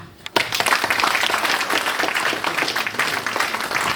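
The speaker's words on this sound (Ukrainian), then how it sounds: "Ще ще гучні оплески усім нагородженим" A hall full of people bursts into applause for award recipients at a ceremony honouring volunteers. A sharp knock comes first, then dense, loud clapping continues without a break.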